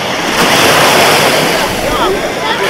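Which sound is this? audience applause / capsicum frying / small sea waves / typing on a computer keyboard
small sea waves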